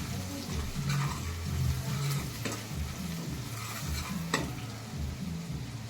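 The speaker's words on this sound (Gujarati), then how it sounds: "બધા મસાલા મિક્સ કરી દઈશું।" Spices being stirred together in a hot pan with turmeric for a Gujarati undhiyu, a soft continuous sizzle with scraping spoon strokes, fairly faint and close, with a voice speaking now and then.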